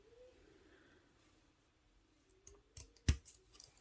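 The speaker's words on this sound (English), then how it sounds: "I was gonna snip it." Small snips cutting cross-stitch thread, a few sharp close clicks near the end of an otherwise quiet stretch, the loudest snip landing just after three seconds.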